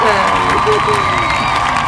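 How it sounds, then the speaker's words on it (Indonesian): A crowd claps and cheers, a loud, close burst of applause mixed with whoops and shouting voices that carries on steadily throughout. "Ye, tepuk tangan."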